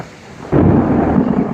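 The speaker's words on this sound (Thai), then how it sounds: "ก็เสียงคำรามเหมือนจะมาอีกรอบนะครับ" Thunder from a storm suddenly breaks in after a quiet half second, becoming a loud, deep, continuous rumble that holds steady to the end.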